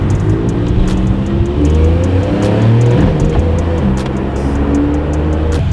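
A Porsche 991 911 Carrera S engine rumbles and blips through paddle-shift downshifts, with loud close revs, engine tones stepping between pitches and short clicks over a steady drone.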